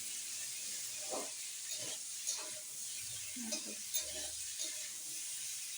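Cauliflower and potato fry with onion in a pan, giving a steady hiss of sizzling oil broken by several soft scraping stirs, close and moderately loud, with no talking.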